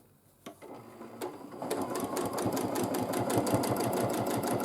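Domestic sewing machine stitching free motion quilting through a quilt sandwich on half-square-triangle blocks, starting with a few isolated clicks, then settling into a steady, fast, close rhythmic run of needle strokes that grows louder.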